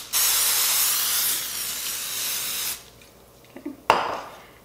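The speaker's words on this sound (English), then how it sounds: "We'll just spray this side a little." A sustained hiss of cooking spray over beets for nearly three seconds, then quiet, followed by a few light clatters and a short sizzle-like burst.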